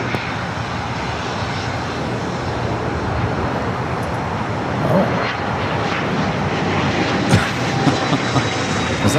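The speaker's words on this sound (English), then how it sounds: "No, it was a take off to the left." A jet taking off from the runway at Los Angeles International Airport gives a loud, sustained roar that builds and rumbles steadily for several seconds without pause.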